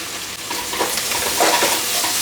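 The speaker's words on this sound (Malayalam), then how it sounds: "കൊച്ചുള്ളി, വെളുത്തുള്ളി, ഇഞ്ചി ഇത്രയും കൂടെ അരിഞ്ഞത് ഒരുമിച്ചിട്ടങ്ങ് വഴറ്റിയെടുക്കാം" Chopped shallots, garlic, ginger and curry leaves sautéing in a pan, a close, continuous crackling sizzle with soft stirring scrapes, no talk.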